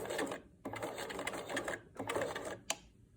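A sewing machine runs in short bursts of rapid stitching through fabric for a two-colour face mask, with brief pauses between runs; close and fairly quiet, with no talk.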